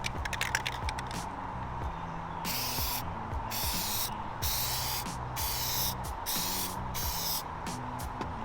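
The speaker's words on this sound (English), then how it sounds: "you're just gonna spray this off after you apply the tape" Several short hissing bursts of aerosol spray paint onto a car emblem, close and steady, separated by brief pauses over a low background hum.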